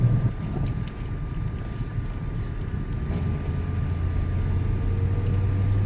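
A car drives slowly around a residential neighborhood with a steady low engine and road rumble plus wind buffeting at the microphone; the car is being checked for a popping noise from worn rack and pinion bushings or tie rod ends, and no pops are heard.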